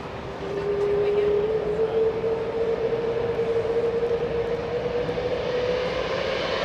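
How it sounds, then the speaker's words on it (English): An airliner taxies along an airport taxiway with a steady, sustained engine whine and rumble at moderate distance, holding at a constant level throughout. "I think he's taxiing up Alpha."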